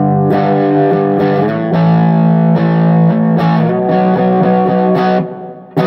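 Electric guitar played through a Boss Katana 50 amp with only a hall reverb engaged: loud sustained distorted chords change every second or so, each ringing into a long reverb tail before cutting off.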